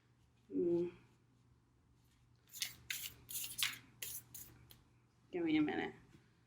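Tarot cards shuffled by hand, a quick burst of crisp papery riffling and flicks between short bits of a voice talking.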